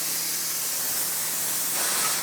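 A hopper spray gun blows popcorn acoustic texture onto a ceiling with a steady, close, airy hiss that holds for the whole stretch and swells slightly near the end, with no voices over it.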